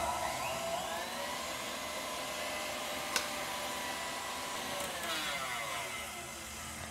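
An electric stand mixer whirs steadily as it beats egg yolks and sugar into a pale, dense foam for a chocolate roll sponge, a constant motor hum with a single faint clink, no talking.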